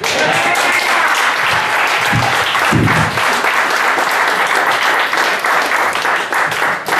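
Audience at a stand-up comedy show for comedian David Graham in Greeley, Colorado, clapping in loud, dense, sustained applause with a few shouts mixed in.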